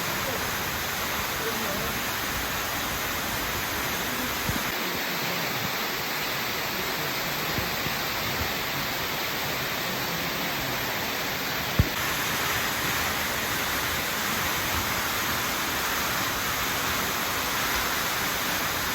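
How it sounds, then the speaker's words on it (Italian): A waterfall on Maiella mountain in Abruzzo roars as a steady, loud broadband rush of falling water filling the whole clip, close and continuous with no pauses. "Che meraviglia, che meraviglia, la cascata."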